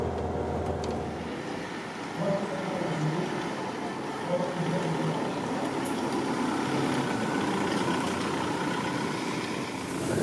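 A Volkswagen Beetle 1.9 TDI diesel with 90 horsepower runs with a steady, low engine drone and road rumble from inside the car during a test drive, continuous and moderately loud, with no talking.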